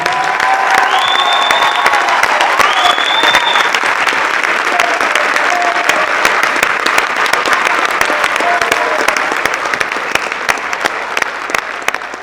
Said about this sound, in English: A round of applause for Mr. Morgan.